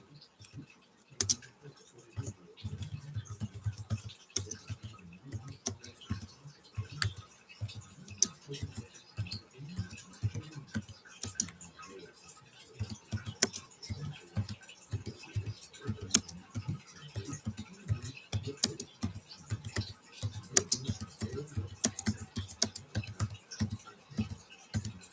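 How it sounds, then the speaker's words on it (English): Computer keyboard typing, a steady run of quick soft key clicks with uneven rhythm, close and fairly quiet, continuing for the whole stretch with no talking. "I'll type it for you"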